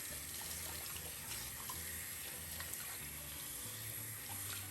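Steady running water from a tap over a sink as a human hair wig is rinsed, a continuous close hiss and splash with no talking.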